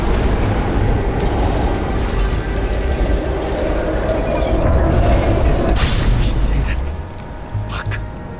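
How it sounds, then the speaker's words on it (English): Lock being reconstructed in the Nobody Wants To Die game produces a loud, rumbling mechanical churn with low booms, then a sharp bright whoosh and a few clicks as it settles quieter. "We have to reconstruct the lock."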